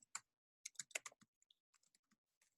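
Someone typing on a computer keyboard, quiet close clicks in short irregular bursts, a quick cluster of keystrokes followed by sparser taps, with no talking.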